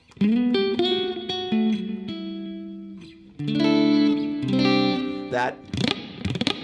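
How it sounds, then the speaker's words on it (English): Electric guitar picked with a thin, floppy pick through an effects chain, ringing sustained notes and chords up close, with a pause midway before a second louder phrase and a scrape at the end. "There's the sound of the pick being floppy."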